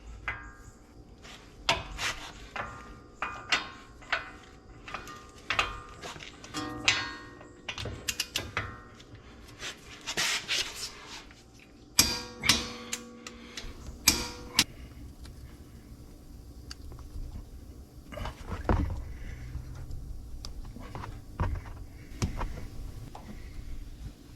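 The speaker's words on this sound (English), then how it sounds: "the 4 bolts holding the hub on. Torquing those to 150 foot-pounds" Lug bolts holding the front wheel hub on a 2017 Ram 3500 dually being torqued to 150 foot-pounds with a wrench, giving a series of close, sharp ratcheting clicks and creaks in irregular bursts with short pauses, no talking.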